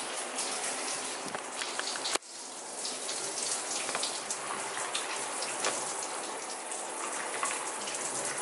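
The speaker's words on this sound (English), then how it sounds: "now he's in the shower" A shower runs in a home bathroom, a steady broadband hiss of spraying water with one sharp knock early on and a continuous wash after it, close by with no voices.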